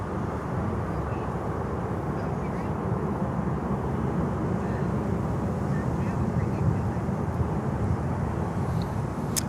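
An airliner approaching to land at Miami airport with its wings rocking before touchdown, a steady broad engine roar held at even loudness throughout, with a voice talking over it.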